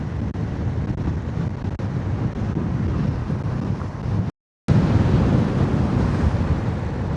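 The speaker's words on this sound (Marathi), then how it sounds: "वारं खूप सुटलं आहे, खूप म्हणजे खूप वारं आहे" Strong wind roars against the microphone during a motorcycle ride on a highway near a toll plaza, loud and steady throughout with one brief dropout.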